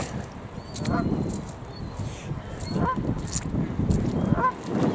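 A goose honks several times at close range over steady outdoor ambience, with a few scattered calls spaced a second or two apart.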